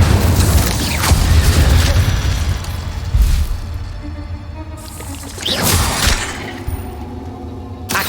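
An Incendio fire spell is cast in a Harry Potter video game: loud booming, roaring bursts of fire with a whooshing rush, then a second burst after a lull.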